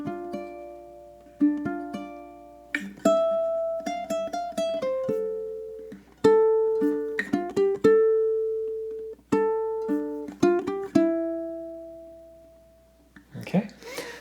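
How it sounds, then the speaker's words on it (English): Ukulele plucking the first eight bars of a tune from Zelda, close and clear, picked notes and strummed chords ringing out with loose, slightly uneven timing and gaps between phrases, a brief noise at the very end. "I'm going to play 1 through 8 so we can hear everything put together"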